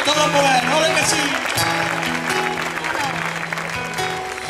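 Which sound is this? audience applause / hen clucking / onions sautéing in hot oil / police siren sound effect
audience applause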